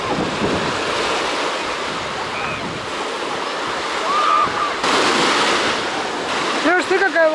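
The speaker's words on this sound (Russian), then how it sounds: "Волна идет огромная." Broadband Florida ocean surf rushing steadily, a large wave surging louder toward the end, with wind buffeting the microphone throughout.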